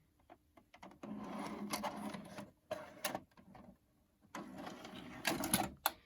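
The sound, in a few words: VHS tape inserted into Sharp VC-471 VCR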